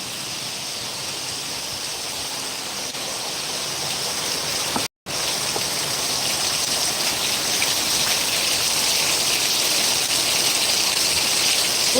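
Heavy rain pours steadily in a dense, even hiss with fine droplet patter, loud and close throughout, broken only by a momentary gap in the middle.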